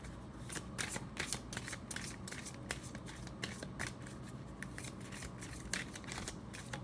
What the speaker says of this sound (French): Battre les cartes.